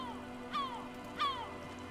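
In the Disco Elysium video game, a bird gives two descending cawing calls about half a second apart over a faint ambient background.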